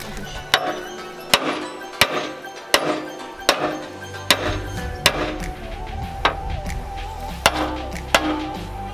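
A hammer strikes a broken weld on a Tatra truck frame, about a dozen sharp metallic blows at a steady beat of roughly one per second, close and loud, with an engine rumble joining partway.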